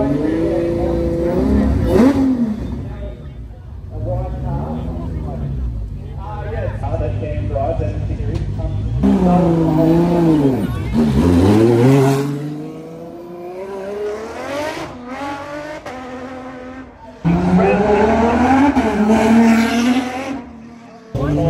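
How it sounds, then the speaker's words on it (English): A hand-built, road-legal, F1-inspired race car with a Ferrari V12 screams past on a track, loud engine notes rising and falling through gear changes in several bursts, with talk over it. "hand-built, road-legal, F1-inspired, Ferrari V12-powered race car that just sounds absolutely menacing"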